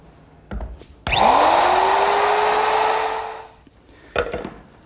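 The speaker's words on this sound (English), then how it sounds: "Now using my router with a chamfering bit, I'm just easing the edges at the top of the foot." A woodworking router fitted with a chamfering bit eases the top edges of a wooden quilt-rack foot, spinning up with a rising whine into a loud steady cutting roar for a few seconds before winding down.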